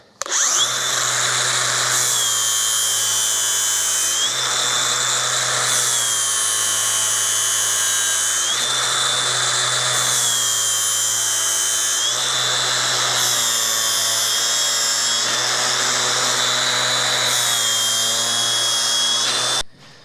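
Power tool grinding and sharpening a lawn mower blade, a loud steady high whine that dips briefly every couple of seconds as the blade is repositioned, running continuously with no voices.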